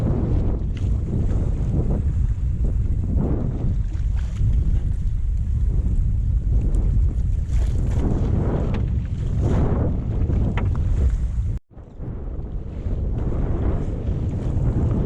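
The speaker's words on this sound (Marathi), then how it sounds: "वारा पण भरपूर झालाय" Strong stormy wind roars continuously over a small fishing boat out at sea, buffeting the microphone with heavy, close, unbroken rumble and a brief dropout near the end.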